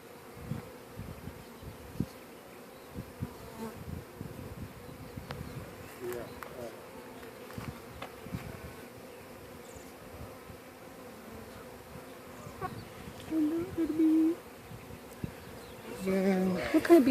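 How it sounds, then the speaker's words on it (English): Italian honey bees hum in a steady, low drone close by, with a few louder buzzing passes near the end. "these are Italian bees"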